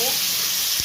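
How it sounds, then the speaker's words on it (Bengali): Chopped onions sizzle in hot oil in a pan, a steady bright hiss heard close up for under a second with no talk over it. "পেঁয়াজ যে কেটে রেখেছি, পেঁয়াজটা আমি দিয়ে দেবো তেলের মধ্যে"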